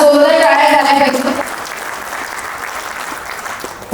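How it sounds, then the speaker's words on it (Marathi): An audience applauds at a food safety and buyer-seller meet in Nagpur. Dense clapping fills the hall for about a second and a half while a voice speaks over it, then thins to scattered claps and fades. "सरांसाठी एकदा पुन्हा जोरदार टाळ्या झाल्या पाहिजे"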